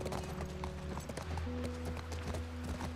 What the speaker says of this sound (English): Look at this beautiful nature riding a horse in this environment.